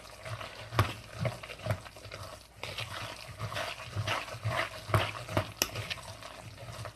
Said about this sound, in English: So I'm just going to stir the mushrooms into my mix.